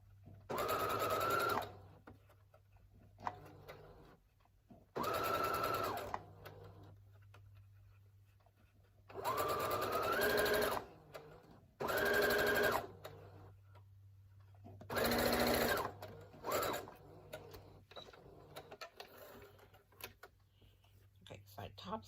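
Sewing machine top-stitching a fabric face mask in several bursts of steady whirring, with quieter pauses between runs and brief low handling sounds.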